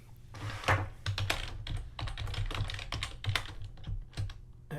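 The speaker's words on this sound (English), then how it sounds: "Yeah, but you got it wrong because you keep on typing things uppercase, Zoe." Fingers type on a computer keyboard in rapid, irregular bursts of close clicks and taps, continuing steadily for several seconds without speech.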